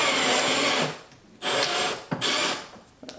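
A power drill bores holes in a C8 Corvette while a Z06 Z07 conversion wing is fitted, running in two or three close, loud bursts separated by brief pauses.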